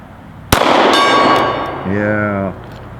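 A single sharp gunshot at close range, followed by a faint ringing metallic clang from a steel gong target downrange, then a brief voice-like tone near the end.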